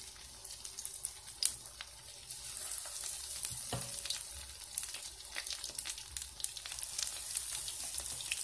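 Food frying in hot oil, part of a meatless potato and fennel stew being prepared, gives a steady, soft sizzle with scattered pops and light stirring clatter, no voices.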